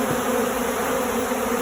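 Honeybees and robber bees swarm around a hive after a bear attack, a dense, steady, close buzzing hum with no break and no voices.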